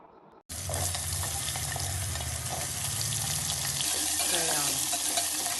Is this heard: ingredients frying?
yes